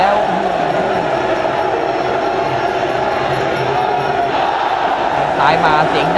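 A crowd roars and chants at a Muay Thai fight, a loud, sustained wash of cheering that swells near the end, while an announcer keeps commentating over it.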